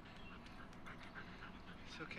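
A dog in a TV drama scene whimpers and pants faintly, with soft yips mixed under people talking nearby.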